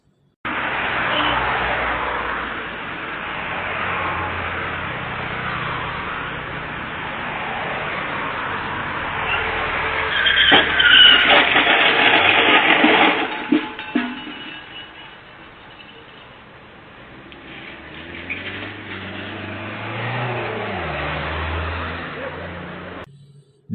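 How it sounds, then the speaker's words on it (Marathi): A car driven carelessly on a road, with steady engine and road noise throughout and a louder passing or revving surge in the middle, while voices talk over parts of it. "निष्काळजीपणे वाहन चालवलं."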